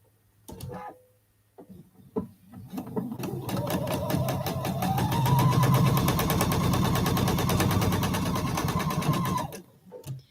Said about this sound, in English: You could always flip it over and sew from this side.